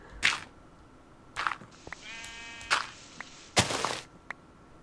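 Sheep in Minecraft bleat in short separate calls, three or four of them, close and clear over a quiet background, with a few soft clicks and steps between.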